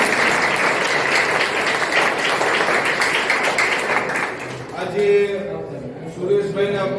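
An audience claps to welcome a visiting family at an institution for blind residents, loud dense applause that fades out after about five seconds as a voice begins talking.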